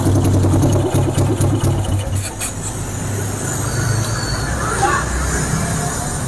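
Engine idling through a free-flow exhaust with no baffle, a steady loud rumbling drone that holds throughout with faint background chatter.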